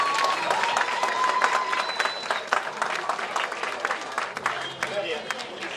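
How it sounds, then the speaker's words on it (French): Wedding reception guests applaud the couple with steady crowd clapping that holds for several seconds, loud and close, with voices mixed in under it. "The way we're clapping seems like we're not happy for the couple"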